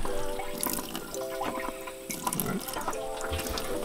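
A foot-pump sink faucet in a Ram ProMaster 2500 camper van runs water into the basin, giving uneven splashing and trickling with a few drips and knocks, close and fairly quiet, with no talk.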